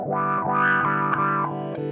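Guitar through an Earthquaker Devices Spatial Delivery envelope filter pedal, sustained notes with a quacky, sweeping filter that opens and closes with each pick attack, a few repeated swells without talk.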